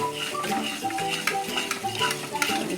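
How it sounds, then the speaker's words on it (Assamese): Spices and vegetables fry in a little oil for a paneer curry, with a steady sizzle and repeated stirring and scraping strokes close by. A faint tonal background runs underneath. "এতিয়া গোটেই বস্তুখিনি অকণমান তেল ফুটালৈকে ধুনীয়াকৈ ভাজি লৈছোঁ"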